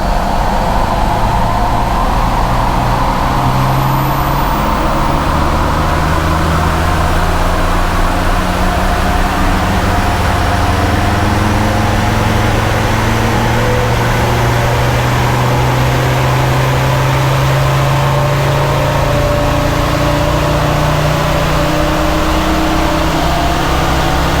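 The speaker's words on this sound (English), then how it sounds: "So we've just gone full throttle in 4th gear now." A Land Rover Td5 Defender diesel with remapped tuning pulls hard at full throttle in fourth gear, a loud, steady engine drone with heavy wind and road roar that builds continuously and never lets up.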